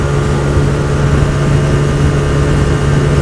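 A Korean Hyosung GT125R motorcycle's 125cc V-twin engine runs with a loud, close, steady drone and a strong low hum, holding constant throughout without voices.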